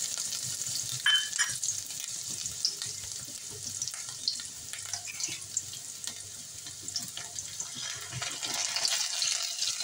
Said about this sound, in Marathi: इथे मी 2 चमचे तेल तापत ठेवलं होतं। आता याच्यामध्ये अर्धा चमचा मी मोहरी घालते आहे।